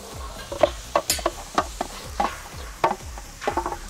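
Onions are stirred in a hot kettle on a tripod over a campfire for chili con carne, giving a series of scraping, clattering strokes with a soft sizzle beneath, fairly close and with no talk.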